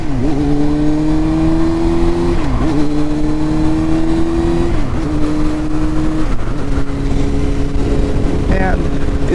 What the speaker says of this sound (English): It's a really nice running bike.